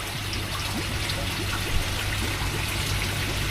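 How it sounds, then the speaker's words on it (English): Air bubbling out of a pipe underwater in a koi pond, with air trapped in the heat pump line; a steady, close trickling and gurgling of water and bubbles runs throughout without pause. "So you can see the air bubbles coming out there."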